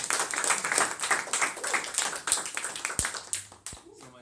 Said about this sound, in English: round of applause and a warm welcome to David.